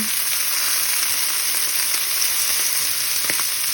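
Beef pieces for bulgogi searing in a hot pan, a loud continuous close sizzle and crackle throughout, with no talking.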